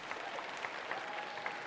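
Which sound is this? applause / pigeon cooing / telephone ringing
applause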